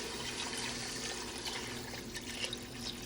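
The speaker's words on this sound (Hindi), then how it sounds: "अभी पानी डाल देंगे जितना शोरबा हमें चाहिए" Water pours into fish curry masala in a pan, a steady liquid rush that fills the whole stretch at even loudness, with no talk over it.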